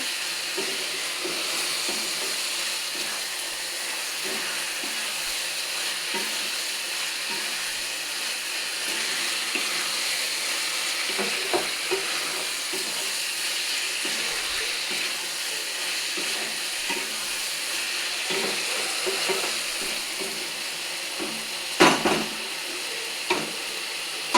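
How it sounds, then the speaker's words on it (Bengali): Fried pointed gourd (potol) sizzles in a frying pan as it is stirred with spices, a steady close hiss broken by scattered scraping clicks and a louder clatter near the end. "মশলাটা ভালো করে পটলের সঙ্গে মাখিয়ে নেব।"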